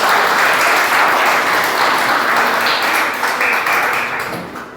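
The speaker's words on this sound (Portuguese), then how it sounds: "Palmas para Jesus" Church congregation applauding during a service, dense sustained clapping from many hands that holds strong before gradually fading toward the end, with no voices over it.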